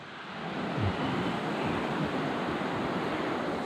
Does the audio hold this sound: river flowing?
yes